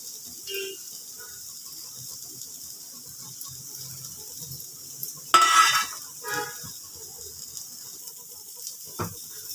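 A spoon stirs capsicum with green chilli, grated ginger and chopped oregano in a pan, giving soft scraping and a brief louder clatter of utensil against metal over a faint background hiss.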